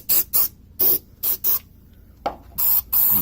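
Lithium grease sprays from an aerosol can in about eight short, loud hissing bursts with gaps between them, close by, while parts of a Hummer H3 body lift are worked on.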